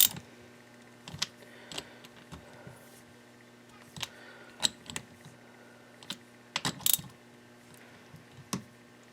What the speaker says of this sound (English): I had to change my ratchet.